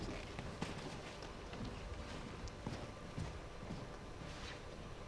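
Horse hooves clip-clop steadily as a horse pulls a decorated buggy carriage through the streets of Delhi, a continuous rhythmic clatter under a busy, noisy background.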